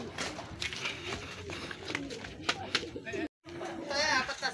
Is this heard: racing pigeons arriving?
yes